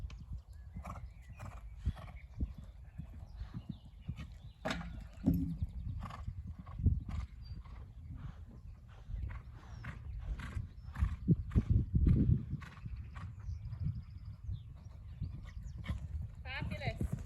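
A horse canters around a showjumping course, its hooves drumming a steady clip-clop rhythm at close range, with snorts and a whinny. A coach's voice talks over the hoofbeats.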